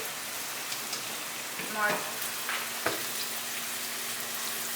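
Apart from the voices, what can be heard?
onion frying in a pan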